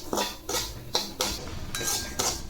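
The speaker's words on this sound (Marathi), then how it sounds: "आता यामध्ये रवा टाकू आणि कमी गॅसवर आता आपण हा रवा भाजून घेऊ" Semolina (rava) is roasted on low heat in a pan that already held fried cashews, with a metal spoon scraping and clinking against it in steady rhythmic strokes, close up.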